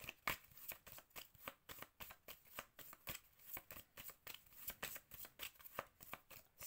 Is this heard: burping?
no